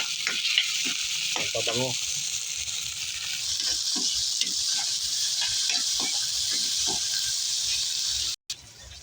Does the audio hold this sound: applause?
no